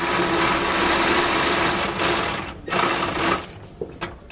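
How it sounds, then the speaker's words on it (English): A power tool fitted with a 13mm socket loosens frame bolts while a Timbren rear suspension enhancement system is installed, whirring continuously up close before breaking into a few short stop-start bursts. "We're going to be using a 13mm socket to loosen it up."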